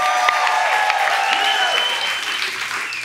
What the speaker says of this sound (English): I think we can clap better than that